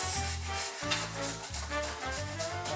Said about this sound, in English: So to help me grind easily, I've got my grater. So I grate.